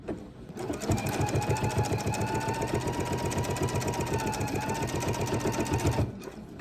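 A sewing machine runs steadily while stitching a fabric bowl cozy, slowed through a seam, a continuous close mechanical whir with rapid needle clatter for about five seconds, starting and stopping cleanly.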